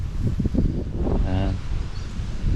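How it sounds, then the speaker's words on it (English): Gusty wind blows through trees and buffets the microphone with a loud, rough rumble and rustling that rises and falls, while a person talks over it. "very breezy"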